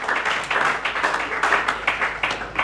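A church congregation claps and cheers together in rapid, dense applause that stays loud and steady for a few seconds, with no speech over it.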